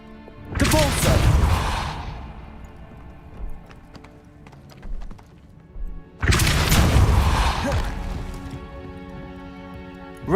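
Depulso force spell cast in Hogwarts Legacy: two loud, broadband whooshing blasts a few seconds apart, each fading gradually, with faint rustles between them.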